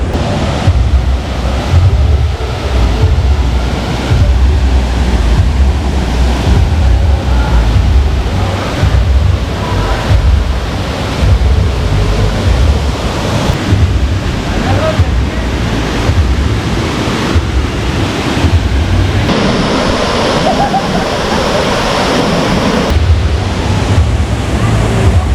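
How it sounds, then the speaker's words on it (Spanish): The Tamasopo waterfalls in the Huasteca Potosina of Mexico rush loudly and continuously close by, a dense broadband roar mixed with wind buffeting the microphone. "Vamos a probar las cascadas de Tamasopo."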